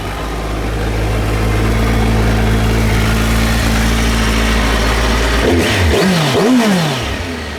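A 2015 Kawasaki Versys 1000 motorcycle with 12,000 miles idles with a loud, steady, close engine hum. Near the end it blips the throttle in a few quick revs that rise and fall, with no talking.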